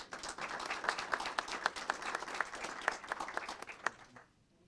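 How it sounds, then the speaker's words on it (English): Applause rings out from the audience at a city council meeting, a few seconds of steady clapping with sharp individual claps before it dies away. "we can give her a round of applause."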